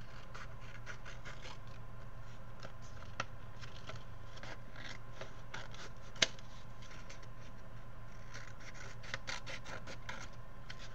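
Scissors cutting out a paper shape traced with a pen for a doll-sized clipboard craft: quiet, close, intermittent snips and paper rustles and scratches, with one sharp click partway through.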